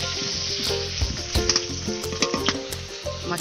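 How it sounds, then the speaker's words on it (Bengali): Rohu fish head frying in hot oil in a wok, a steady loud sizzle with crackling bursts and a few stirring scrapes, no talk. "মাছের মাথাটা তেলের উপরে ছেড়ে দিলাম। মাথাটা উল্টে পাল্টে ভালো করে আমি ভেজে নেব।"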